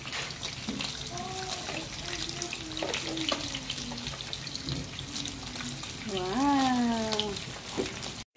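Fish frying in hot oil gives a steady crackling sizzle throughout, with a person's voice exclaiming briefly over it near the end.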